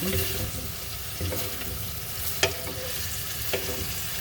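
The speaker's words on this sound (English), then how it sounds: "The bitter melon is cooking down." Bitter melon, tofu and pork belly stir-frying in a pan, a steady close sizzle with occasional sharp clanks of a utensil against the pan.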